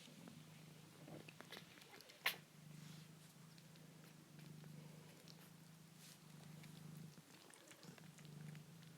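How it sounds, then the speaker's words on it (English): Kittens purr softly in a steady low rumble, very faint and close, with small rustles and one brief sharp click partway through, no talking. "They're little kitten purrs if you listen closely."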